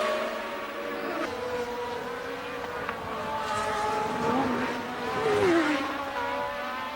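A 1981 Formula 1 car laps down the straight at the French Grand Prix at Dijon, its engine whine rising and falling in pitch as it passes, heard at a distance over crowd and circuit ambience.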